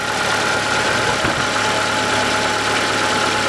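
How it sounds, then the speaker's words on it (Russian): A 2010 Chery Amulet A15 1.5-litre engine idles with a rattling valve, a steady close mechanical drone carrying a fine ticking clatter and one brief knock midway through. "Какой-то клапан тарабанит, компенсатор наполняется долго."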